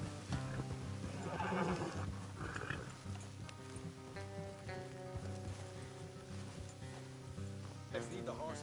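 Horses whinny and snort in Red Dead Redemption 2 over a steady musical drone, with hooves clip-clopping and muffled voices in the background.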